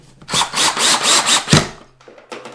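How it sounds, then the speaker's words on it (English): A power drill drives a wall anchor into a wall with a Phillips bit, giving a loud, close burst of pulsing whirring that stops after about a second and a half, followed by a couple of short, quieter bursts. "and then we're gonna drill it in."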